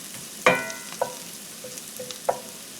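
Garlic sautéing in oil and butter in a pan beside mushrooms, a faint sizzle punctuated by a few sharp clinks and scrapes of a utensil against the pan, no voices.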